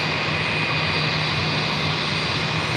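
A JetBlue Airways Airbus A320 on Flight 225 from Tampa at JFK airport, a steady loud jet roar with a constant whine, heard alone with no pauses.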